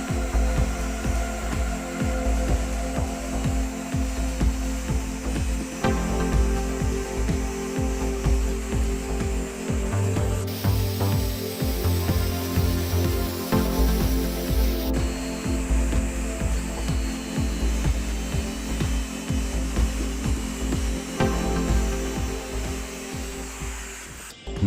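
Scrap metal parts for a broken bike mudguard repair are cut to size with a power tool, giving a continuous loud grinding buzz with a harsher, brighter stretch midway and no talking.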